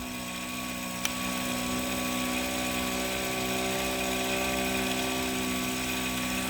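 An electric kayak motor, a Torqeedo competitor, spins its propeller at high RPM with a steady whining hum and layered tones after a brief click at startup, holding constant and near.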